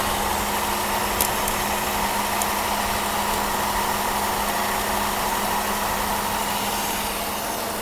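A Mercedes W126 560SEC V8 idles steadily during an engine test after fuel distributor repair, a constant even hum with a faint tonal whine and no talk.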